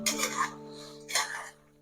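Spoon stirring Coorg-style chicken fry with Kerala tamarind paste in a metal pan, two short bursts of scraping and clinking close by, with a steady hum underneath and no talk.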